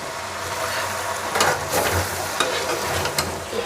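Jute leaves with jackfruit seeds stir-frying in a little oil, a steady close sizzle broken by several scraping stirs of a spatula against the pan.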